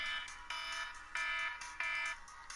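An alarm goes off in a room: a bright electronic tone pulses in four evenly spaced bursts, loud and alone with no talking.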